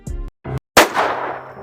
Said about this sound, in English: The room filled with shock as everyone turned their attention to the sound of the gunshot.